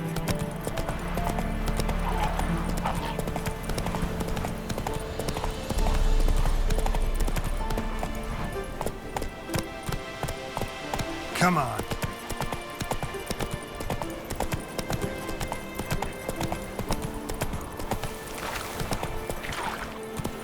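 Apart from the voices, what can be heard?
horse galloping in video game The Witcher 3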